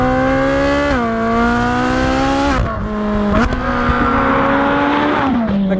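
A Ferrari 458 Speciale Aperta's 4.5-litre naturally aspirated V8 roars loudly and continuously up close, its pitch climbing through revs and dipping at several quick gear changes.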